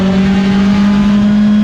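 Race cars rev hard at River City Speedway in St. Helens, Oregon, a loud steady engine drone holding one strong pitch close by, with no break through the short burst and no voices.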